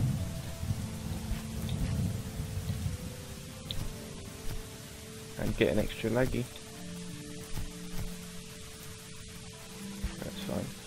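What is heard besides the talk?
rain and thunder in the video game Starbound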